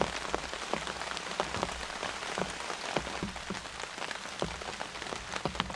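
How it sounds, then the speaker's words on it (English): Rain patters steadily on a blue tarp shelter at a camp in the brush, a dense spray of close, sharp drops tapping the surface without any voices. "Camping in the rain."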